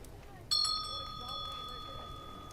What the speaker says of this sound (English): Lucien hears the bell above the door to the shop chime